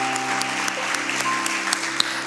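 A church congregation applauding during a sermon, a dense, even patter of many hands clapping at once that continues steadily throughout, with faint tonal hum underneath.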